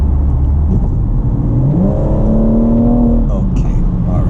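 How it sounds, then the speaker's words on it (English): BMW M140i with a Bootmod3 Stage 2+ tune accelerating, a heard from inside as a low engine rumble whose pitch climbs smoothly through the rev range, then drops off near the end, loud and close. "I touched the throttle ever so slightly, and the car just jolted in front."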